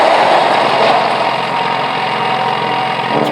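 The machine engine in the video game Bendy and the Ink Machine runs as a loud, steady mechanical drone with a dense rumbling texture and no voice.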